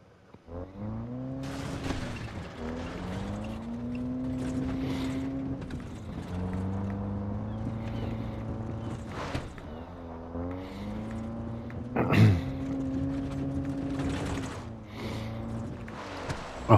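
A car in the video game Far Cry 3 drives with a steady engine drone that rises and falls in pitch as it revs and shifts, close and loud, with a sharp bump or skid near the end.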